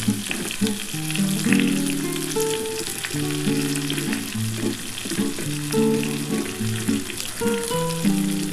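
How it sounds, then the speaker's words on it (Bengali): Potatoes, cauliflower and tomatoes frying together in a pan, a steady, close sizzle with occasional stirring, heard alongside a background melody throughout. "আগে একটু আলু আর ফুলকপিটার সাথে একসাথে ভেজে নিই একটু।"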